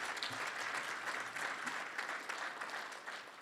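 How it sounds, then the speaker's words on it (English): A forum audience gives a big round of applause for a moderator and panelists, the dense clapping continuous and even from start to finish. "another big round of applause for our moderator as well as our panelists"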